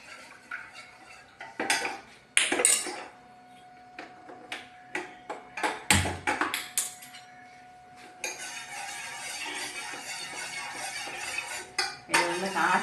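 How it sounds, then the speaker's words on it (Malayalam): A spoon works through a ragi mixture in a pot to break up lumps, producing irregular metallic clinks and scrapes against the pot, then a steadier swirling wash of stirring near the end. "കട്ടയില്ലാതെ ഒന്ന് ഇങ്ങനെ കലക്കിയിട്ടത് വേണം"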